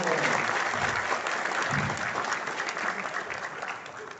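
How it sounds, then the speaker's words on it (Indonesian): Audience applause at an Indonesian community gathering with officials present, dense steady clapping from a sizeable crowd lasting throughout, near and loud with slight fading toward the end. "Tepuk tangan."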